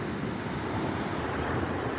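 Steady roar of sea waves and wind surrounding a small kayak off the islands near Ksamil, a continuous close wash of surf and blustery air with no voices.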